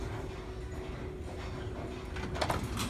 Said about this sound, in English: Watch it open.